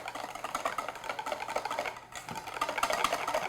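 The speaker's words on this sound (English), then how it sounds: "Just whisk that in." Whisk clicking and scraping against a bowl as vanilla extract is beaten into chocolate yogurt muffin batter, a dense, steady patter of quick strokes with a brief pause midway, close and fairly quiet, no talking.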